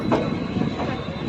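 Uttaranchal Sampark Kranti Express rolls into Lal Kuan junction with a steady, close rumble of wheels on rail and faint metallic squeal.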